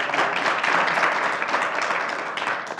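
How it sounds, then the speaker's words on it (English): Audience applause for the panelists at the close of a journalism ethics panel, a steady dense wash of clapping from many hands, sustained and fairly loud throughout with no break. "a round of applause for our panelists"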